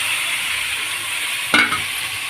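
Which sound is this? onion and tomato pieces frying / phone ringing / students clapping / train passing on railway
onion and tomato pieces frying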